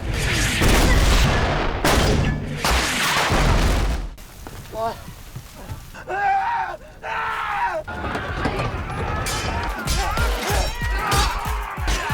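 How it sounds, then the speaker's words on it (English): Heavy artillery shells burst in deep booming blasts, loud and close, with rumbling tails, screams and crackling debris between impacts, set in a desperate siege fight. "The artillery is merciless."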